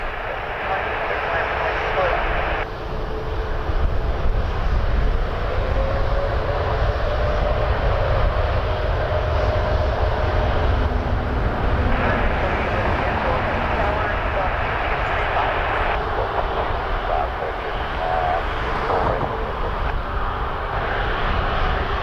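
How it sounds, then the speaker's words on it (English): A jet engine's blast roars in a loud, steady rumble that lasts throughout, carried on a crosswind at Toronto Pearson airport, while people talk over it. "Oh, we're gonna get a nice warm jet blast"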